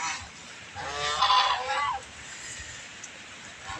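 A goose gives a loud, harsh honking call nearby, a short burst of nasal cries, then quieter background ambience.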